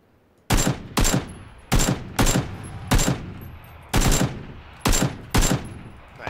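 Gunfire in PUBG: loud, close bursts of rapid automatic shots, about nine separate volleys in quick succession with short gaps between them.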